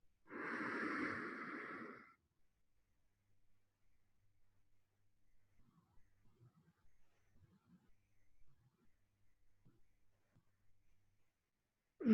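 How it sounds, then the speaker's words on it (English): A single deep breath during Tummo meditation, a strong airy inhale-exhale in the first two seconds, then near silence with faint small sounds. "Last one. Take a deep breath."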